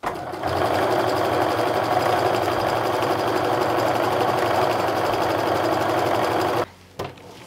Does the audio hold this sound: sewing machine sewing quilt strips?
yes